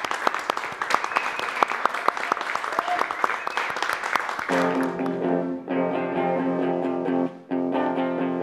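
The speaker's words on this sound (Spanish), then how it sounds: "¡Fuerte el aplauso," Studio audience of the TV show Desvelados applauds loudly, dense clapping for about five seconds before it gives way to sustained musical tones.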